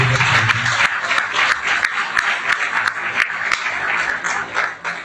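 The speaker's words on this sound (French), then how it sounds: "Est-ce qu'on peut applaudir" A gathered audience breaks into applause, many hands clapping in a lively, fairly close wash with sharp individual claps standing out, sustained for about five seconds and tapering slightly toward the end.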